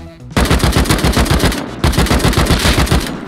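MP5 submachine gun in the video game Rust, fired in two loud close bursts of rapid shots with a brief pause between them.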